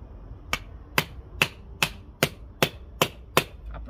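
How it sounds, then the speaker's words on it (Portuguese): A nail is struck with a 9-in-1 multifunction tool used as a hammer, eight sharp, evenly spaced metallic blows in quick succession, close and crisp with quiet between hits. "Vamos bater esse prego agora para ver como que vai ser?"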